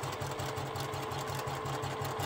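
A sewing machine backstitching fabric runs steadily at close range, its needle beating out a fast, even mechanical rhythm throughout, with no talk.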